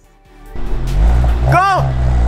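A Volkswagen Golf R Wagon pulls away and accelerates, its engine note rising from a low idle into a loud, swelling rev, with a brief shout from someone inside the car partway through.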